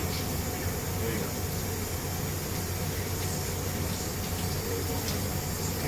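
Tap water runs steadily in a kitchen sink while a raw chicken is rinsed during butchering, a constant broadband rush with no breaks, carried on alone with no talk over it.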